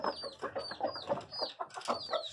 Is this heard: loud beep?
no